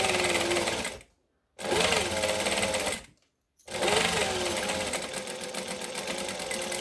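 A sewing machine back stitches a zipper seam on a clutch bag, running in three loud close bursts of rapid mechanical chatter separated by two brief silent stops.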